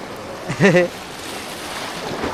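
Steady ocean surf and wind wash around an outdoor fishing spot, continuous and moderately loud, with a brief voice near the start.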